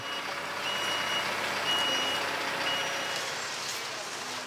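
A truck carrying an animal to Beauval zoo rumbles steadily nearby while a reversing beeper sounds in repeated tones throughout, with no voices over it.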